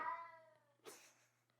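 A single loud domestic cat meow with a drawn-out wavering tone, then a short breathy rustle and quiet room noise with a low hum beneath.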